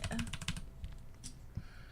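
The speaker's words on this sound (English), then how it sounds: "All right, time to put the keys back on." Computer keyboard keycaps are pressed back onto their switches during cleaning, making a quick burst of close, light plastic clicks and taps, then a few scattered ones.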